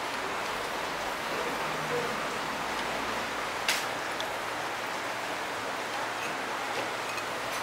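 Rain falling steadily as a constant dense hiss, broadband and even, with one faint brief click partway through and no voices.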